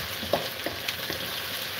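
Onions fry in a pan for Punjabi sarson ka saag, a steady close sizzle with a few soft stirring clicks and no voices.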